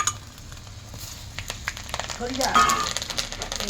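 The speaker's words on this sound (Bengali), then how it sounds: "এবার শুকনো লঙ্কা ফোড়ন দিচ্ছি, এলাচ, জিরা, তেজপাতা ফোড়ন দিয়েছিলাম।" Dried red chilies are tempered in hot oil already holding cardamom, cumin and bay leaf for a rohu fish curry, giving a steady close sizzle with light utensil clinks and stirring, and a voice speaks faintly at times.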